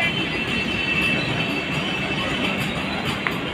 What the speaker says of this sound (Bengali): সেই বন্দে ভারত ট্রেন এখন মানে চণ্ডীগড়ের দিকে যাচ্ছে।